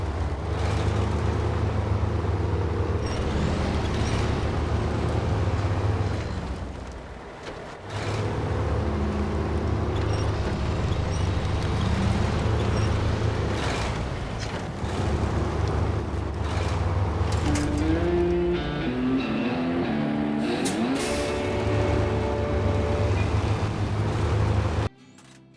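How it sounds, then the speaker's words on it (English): A pickup truck in SnowRunner drives with a low, continuous engine drone that shifts in pitch as it works, dipping briefly midway and cutting off at the end, with no talk. "Once the pickup truck is fully repaired, now it's just a short drive back to the delivery spot to drop it off and complete this task."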